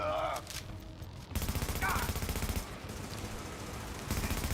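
Sustained gunfire in the video game The Division, a dense fusillade of rapid shots that runs through most of the moment at moderate volume, with some voices mixed in.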